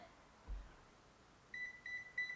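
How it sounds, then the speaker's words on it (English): Three short, bright electronic beeps at a steady pitch follow a brief low thump as an at-home facelift device powers on and syncs, with quiet background hiss in between. "you're going to hear that little vibration and the beep"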